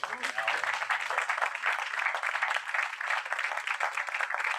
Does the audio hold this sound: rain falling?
no